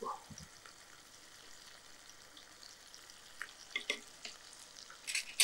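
Chili powder is stirred into lotus flower rasam in a pan. A low background sizzle sits under a spoon scraping and stirring, with the strokes growing louder and busier toward the end.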